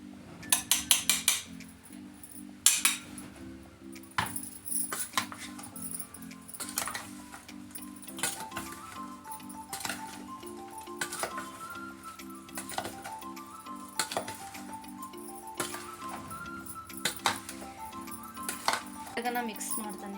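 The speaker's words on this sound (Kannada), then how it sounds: "ನಾ ಮಿಕ್ಸ್ ಮಾಡ್ತಾನೆ. ಯಾಕೆ ಚಮಚ ಒಳಗೆ ನನಗೆ ಬರತ್ತಿಲ್ಲ." A spoon clinks and taps repeatedly in a container while mango pickle is mixed, steady irregular metallic ticks under a continuous speaking voice.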